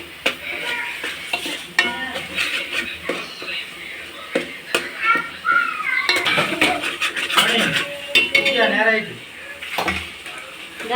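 Masala is stirred and sautéed in a pan while making Tamil-style chicken curry, with a spoon scraping and clinking against the metal pan in repeated strokes under a steady background of voices.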